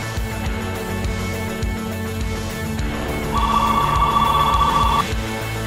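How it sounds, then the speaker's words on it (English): A telephone rings indoors with a steady electronic trill lasting a couple of seconds, clear and fairly close, over a background of music. "Oh, and not to mention all the phone calls."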